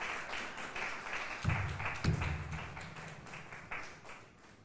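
Audience applause welcoming a speaker at a foundation event, a dense, moderately faint patter of clapping filling the hall and tapering off toward the end.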